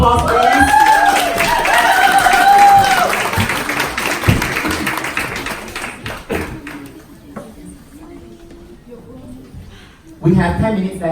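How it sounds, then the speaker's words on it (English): Audience at a book party for Lessons from the Himalayas applauds and cheers for several seconds amid voices and chatter, then the clapping thins out and the room quiets before a short burst of sound returns near the end. "One round of applause, please"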